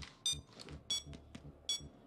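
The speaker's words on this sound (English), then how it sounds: "Just your beeping." Electronic beeps in the PayDay 2 video game, three short bright tones spaced about a second apart, fairly quiet, with soft game noise between them.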